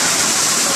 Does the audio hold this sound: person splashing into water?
yes